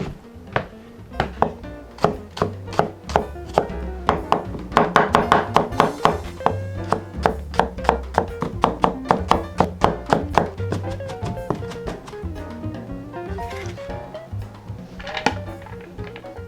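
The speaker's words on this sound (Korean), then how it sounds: "먼저 쪽파는 썰어준 다음에 잘게 썰어주세요." A knife chops scallions on a cutting board for pork bulgogi, landing in a quick, steady run of sharp, close taps that bunch into faster bursts and slow briefly before picking up again.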